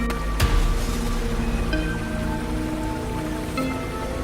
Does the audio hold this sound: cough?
no